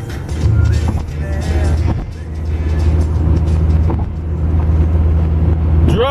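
A car travels along a motorway near Antwerp, Belgium, with steady low road and engine rumble that swells and dips slightly, continuous and fairly loud, with no speech.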